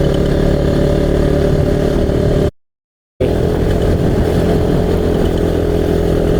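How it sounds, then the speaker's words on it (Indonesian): Strong wind buffeting the microphone on a motorcycle ride along a hilly road from Jampang Kulon to Jayanti, a loud continuous rumbling roar mixed with engine drone, cut by a brief dropout of silence midway. "Soalnya kenceng banget ini angin."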